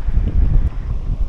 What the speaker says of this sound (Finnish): Tosi kova tuuli on täällä nyt